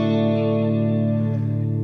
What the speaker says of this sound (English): here's the chord of D